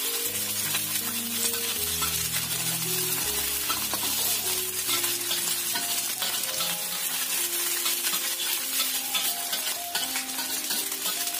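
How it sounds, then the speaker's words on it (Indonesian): Eggs frying in hot oil in a pan for fried rice and noodles, a loud continuous sizzle and crackle with occasional stirring or utensil scrapes, heard alone over steady background music. "Ini kita goreng dulu telurnya ya"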